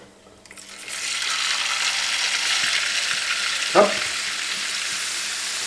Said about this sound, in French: Donc on va mettre dans de l'huile ces pâtes que nous allons frire.